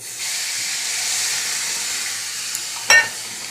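Water is poured into a pan of frying semolina, bringing a loud sustained hiss and sizzle that gradually fades, then a short sharp clatter near the end, with no talk.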